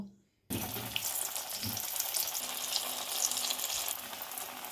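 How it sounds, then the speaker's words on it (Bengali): After a brief quiet moment, mukhpuli pitha dumplings drop into hot white oil in a wok, and a loud, steady frying hiss with crackles and pops carries on to the end. "কড়াই গরম হয়ে গেছে, তাতে সাদা তেল দিয়ে দেবো। এবার পুলিগুলোকে ভেজে নেব।"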